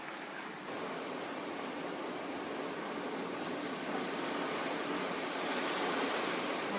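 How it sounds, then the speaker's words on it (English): Ocean waves surge into a sea cave, a continuous, loud roar of churning water that swells slightly toward the end with no break or voices. "Watch these waves coming in here."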